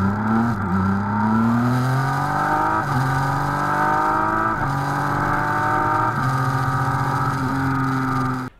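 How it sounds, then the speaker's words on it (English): A BMW K1600B bagger motorcycle's 1600 cc inline six-cylinder engine, rated at 160 horsepower, pulls hard and close up, its smooth rising whine climbing through several gear changes with brief dips between shifts. "a 1600 cubic centimeter inline six-cylinder engine"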